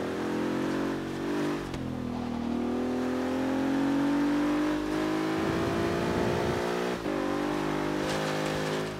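A car engine drones steadily while driving in Forza Horizon 3, a sustained hum whose pitch rises slowly, briefly dips at gear shifts, and carries on loud and close without any talk.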